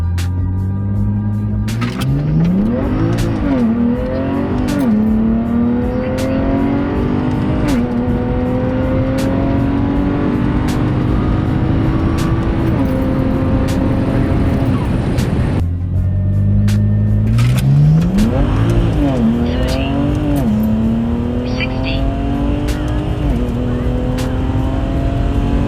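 A BMW E9x running an ethanol fuel mix launches hard in a 0-60 sprint, its engine roaring loud and close as revs climb through gear changes, with brief tire chirps.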